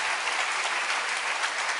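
A church congregation claps during a sermon, a dense, even burst of applause filling the short moment with no speech over it.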